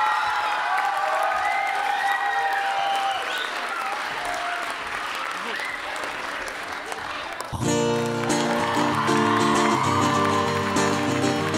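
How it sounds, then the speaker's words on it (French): An audience applauds the performers and the sixth-grade pupils of Collège de l'Estey at Espace Quérandeau, Saint Jean d'Illac: sustained, loud clapping fills the room for several seconds before music starts beneath the lingering applause. "On peut les applaudir très très très très très très très très très très fort."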